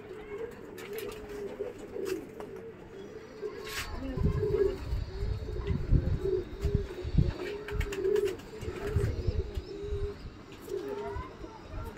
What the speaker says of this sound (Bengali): এই যে পায়রাগুলো উড়ছে